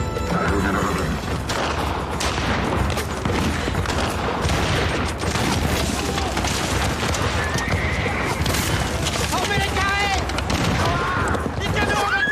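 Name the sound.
musket and cannon fire in a battle scene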